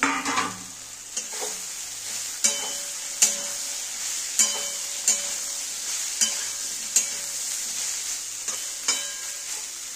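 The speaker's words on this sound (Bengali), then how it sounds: "আলুগুলো ভাজা হয়ে গেছে, এবার আমি সয়াবিনগুলো ভেজে নেব।" Soybean chunks frying in hot oil in a pan after potatoes, a steady broadband sizzle with repeated sharp scrapes or stirring knocks roughly every second, close and fairly loud, with no talking.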